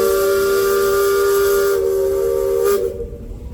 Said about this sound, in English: Let's hear that whistle, Dan.